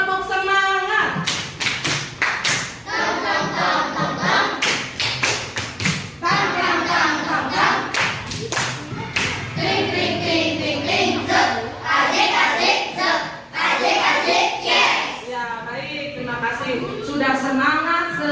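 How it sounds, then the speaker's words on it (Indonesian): A class of children claps out a rhythmic spirit clap, sharp hand claps in quick patterned bursts mixed with the children's voices chanting and a teacher speaking, loud and close. "Ya, coba tepuk semangat."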